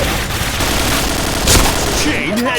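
Video game gunfire in dense bursts of rapid shots crackling throughout, loud and close, with a sharper grenade blast near the middle and electronic-sounding tones at the end.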